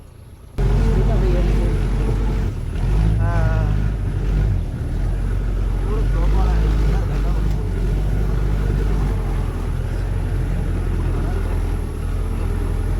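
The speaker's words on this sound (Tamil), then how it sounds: "பட் ஆக்சுவலாக வண்டி சரியாக குலுங்குது." A vehicle jolts along a rain-soaked, muddy dirt track strewn with rocks near Kanthaloor, its engine giving a loud, close, continuous rumble with bumps and rattles throughout.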